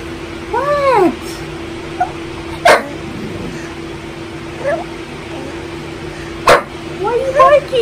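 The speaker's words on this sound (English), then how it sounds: "Why are you barking?" A pet dog barks in short bursts at night at close range, with a few separated yelps, while a person speaks softly nearby.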